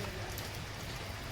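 Steady rain falling, a dense even hiss of drops that stays constant and moderately loud through the short stretch, with no voices.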